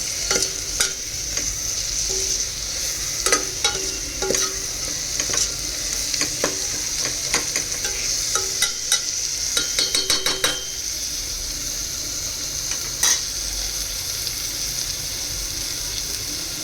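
Tomatoes frying and sizzling in a pan for a dhaba-style mixed vegetable curry, a steady sizzle underneath repeated scraping stirs of a spoon against the pan, with no talking.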